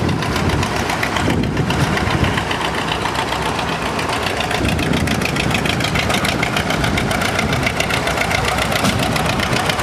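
Diesel engine of a 350 Wheatland Special tractor at an outdoor tractor show, running steadily at a rough, knocking idle, loud and close for the full ten seconds with no talk.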